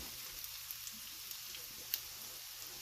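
Meatballs browning in a hot pan, giving a soft, steady sizzle and faint crackling pops that run evenly throughout without any voices.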